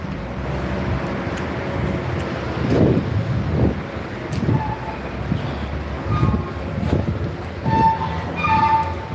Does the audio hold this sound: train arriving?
yes